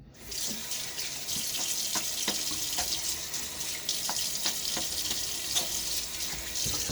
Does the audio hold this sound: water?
yes